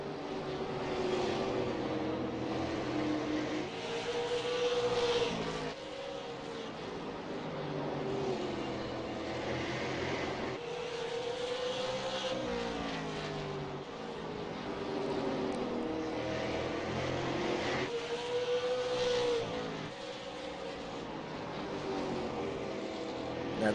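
Super late model race cars on a sim racing oval, their engines droning steadily throughout with rising and falling pitch as the pack runs close together, loud and continuous, with faint voices beneath.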